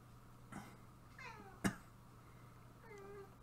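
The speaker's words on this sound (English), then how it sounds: "the cat has an opinion" A cat meows several times, with long wavering cries and one short, sharp yowl partway through, over a low steady hum. No one speaks.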